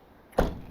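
A storage door on a 2024 Newmar SuperStar 4530 Super C motorhome slides shut with a firm thud, followed by a short lingering rumble; close and moderately loud against quiet, breezy background.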